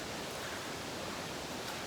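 A small stream flows at a fern-lined trail crossing on a foggy morning, giving a steady, soft broadband rush of running water with no voices.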